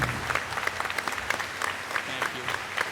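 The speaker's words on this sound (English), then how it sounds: "Please join me in giving Michael a heartfelt applause and round." Heartfelt crowd applause at an annual town meeting, a thick, continuous roll of many hands clapping in a hall with a few sharper claps poking out, steady throughout.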